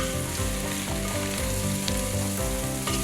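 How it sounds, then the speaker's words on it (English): Pumpkin and carrots sautéing in a soup pot over a strong flame, a loud, dense, continuous sizzle and crackle heard up close with nobody talking. "While we saute the pumpkin and carrots, we are going to chop the zucchini."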